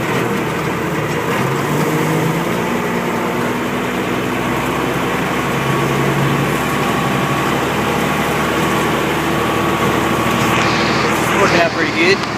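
A car engine drones steadily while driving, a loud, continuous low hum with road and cabin noise filling the whole stretch, close to the microphone inside the car.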